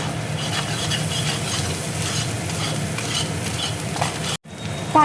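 Spice masala with beet salt, white salt and Kashmiri chilli powder frying and being stirred in a pan for achaari kochu dum, a steady close sizzle with scraping strokes, cut by a brief gap near the end.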